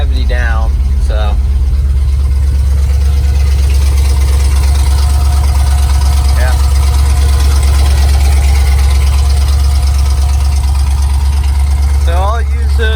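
A 1974 Chevrolet C30 dump truck engine idles steadily and loudly, a constant low rumble filling the whole stretch while someone talks over it.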